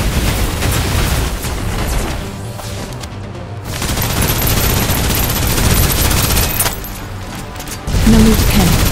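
Sustained suppressive gunfire in the video game SnowBreak: Containment Zone: loud, dense automatic shots and booming bursts roll on almost without a pause for the whole stretch.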